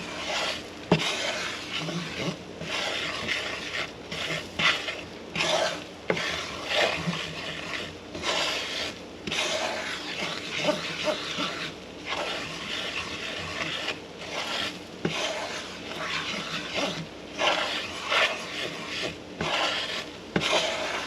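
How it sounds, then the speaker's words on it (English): Japanese curry being stirred in a pot for about a minute, giving a steady run of scraping, rubbing strokes in an uneven rhythm, close and fairly loud, with no talking over it. "we're going to just stir this until it's really, really well mixed up"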